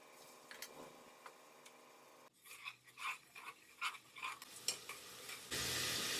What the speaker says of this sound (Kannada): ನಾನು ಇದಕ್ಕೆ ಇವಾಗ ಶುಂಠಿ ಬೆಳ್ಳುಳ್ಳಿ ಪೇಸ್ಟ್ ಫಸ್ಟ್ ಹಾಕೊಂಡು ಬರ್ತೀನಿ.